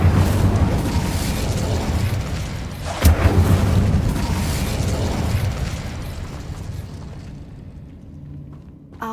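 An Incendio fire spell cast in Hogwarts Legacy erupts with a heavy, roaring burst, followed by a sustained fiery rumble that slowly fades toward quiet.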